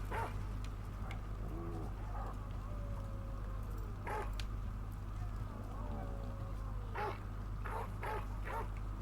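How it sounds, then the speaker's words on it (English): A dog in the video game Dragon Age: The Veilguard gives a few short barks and yips over a steady game soundtrack hum, with spoken dialogue nearby. "I heard a dog bark"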